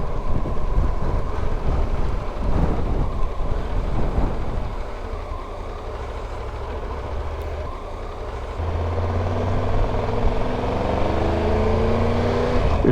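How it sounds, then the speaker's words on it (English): Strong gale-force wind on the Furka Pass buffets a motorcycle rider's microphone, a loud, continuous roaring rush with a deep rumble beneath that surges and eases slightly, with no talking. "The wind's picked up again,"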